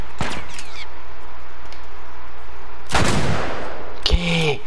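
Gunshots from The Last of Us video game: a few sharp, loud single shots spaced seconds apart over a steady low game background hum.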